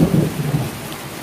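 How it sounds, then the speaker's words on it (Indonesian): Rain with a low rumble of thunder at a motorbike workshop, the rumble strongest at the start and easing off while the rain keeps a steady hiss. "Cuacanya hujan mas bro."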